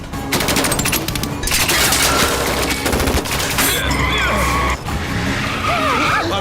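Rapid bursts of gunfire crackle over roaring car engines and screeching tires in a Hindi-dubbed action film chase, loud and chaotic, with shouting voices mixed in.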